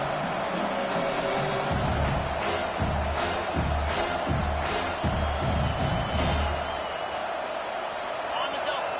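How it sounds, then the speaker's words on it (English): A stadium crowd roars for the defense on third down at a college football game between NCAA teams and South Carolina, a loud sustained cheer under an announcer's voice. "Decibels rising as the crowd gets behind this defense on third down."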